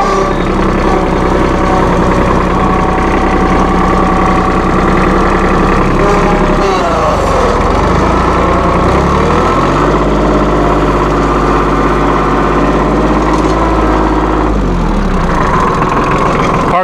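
A 1998 New Holland Boomer 1925 compact tractor with a 34 hp engine idles loudly at close range, a steady low diesel rumble that dips and shifts in pitch a couple of times as it settles.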